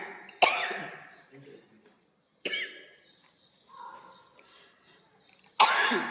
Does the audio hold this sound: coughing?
yes